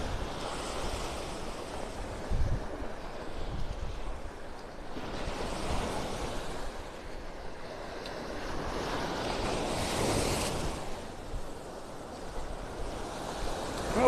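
Waves wash ashore at the south end of Vanderbilt Beach in North Naples, Florida, a steady surf hiss with gentle swells rising and falling every few seconds, mixed with light wind noise and no talk.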